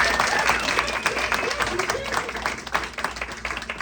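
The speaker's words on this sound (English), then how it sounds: "Give yourself a round of applause." Parents and children applaud after a kindergarten winter show, a sustained, moderately loud burst of clapping filling the room with a faint murmur of voices underneath.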